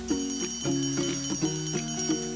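An electronic alarm tone beeps in a repeating melodic pattern, steady and moderately loud, cycling through a few notes.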